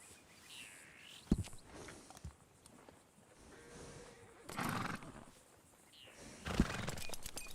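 Horses in Red Dead Redemption 2 give two loud whinnies with snorts between them and a few sharp hoof clops, fairly close, against a quiet outdoor game ambience.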